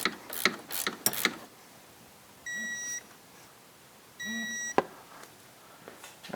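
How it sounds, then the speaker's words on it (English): A torque wrench tightens ball joint bolts on a 2007 Yamaha YFM700 Grizzly, with sharp ratcheting clicks followed by two short electronic beeps signalling target torque, each beep accompanied by a brief hum, all fairly close and alone. "get out the torque wrench, torque them to 32 foot-pounds"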